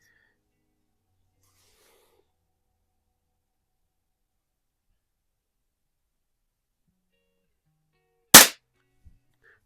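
A Umarex Markpoint budget pellet pistol fires a single sharp, close crack after a long stretch of near silence. A faint tick follows a moment later.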